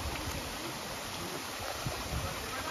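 Cold stream water flowing at the Janela do Céu waterfall in Ibitipoca, Minas Gerais, a steady close rushing wash with no break and no speech.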